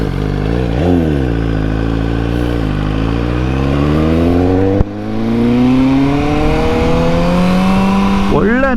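A BMW S1000R Pro motorcycle engine revs and pulls strongly while riding, its pitch climbing through the gears with a brief shift gap, loud and close throughout with no talk.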